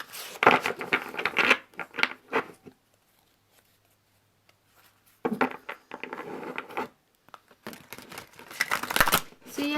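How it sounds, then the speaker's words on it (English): Tarot cards being shuffled by hand, soft papery riffles and slaps coming in close bursts with a quiet pause in the middle, alone and fairly near. "sometimes shuffling can take a couple of minutes"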